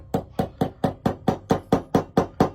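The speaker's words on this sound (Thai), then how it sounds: "แต่ระวังค้อนมันจะไปโดนกับตรงนี้นะฮะ" A hammer taps a file handle onto its tang, eleven evenly spaced sharp knocks in a steady rhythm, close and clear with no talking.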